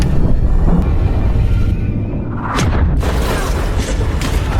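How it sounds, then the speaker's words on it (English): A torpedo explodes against the ship USS Tampa Bay in a submarine action movie, a deep, loud, rumbling boom that swells and lingers, with a second blast-like surge near the end. "they immediately dived to the side to avoid the torpedo, which eventually hit the USS Tampa Bay"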